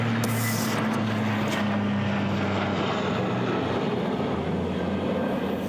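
Airplane flying overhead, a steady broadband engine roar with a low droning hum that stays loud and continuous throughout, with no voices.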